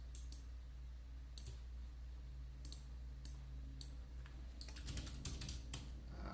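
Quiet computer keyboard typing, scattered clicks at first, then a faster cluster of keystrokes toward the end over a low steady room hum.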